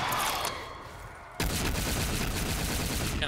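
Gunfire in Black Ops 3 zombies mode, heard as fairly quiet, rapid repeated shots that become a dense, steady burst after a short quieter opening.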